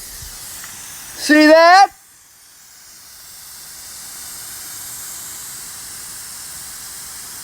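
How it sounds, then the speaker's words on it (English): Short loud burst of water spraying from a fire hose, a rising whooshing hiss lasting under a second, followed by quieter steady background rush; a person speaks briefly. "As I point this hose in that direction."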